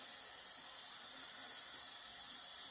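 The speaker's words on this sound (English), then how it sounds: "I'm just letting the steam out" Steam hisses steadily from a cooking pot holding a chicken and leek casserole, a constant broadband rush with a thin whistling edge, quiet and unbroken with no talking.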